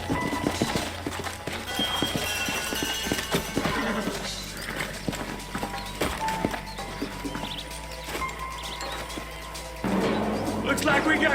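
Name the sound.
horses clip-clopping and neighing, from video game Red Dead Redemption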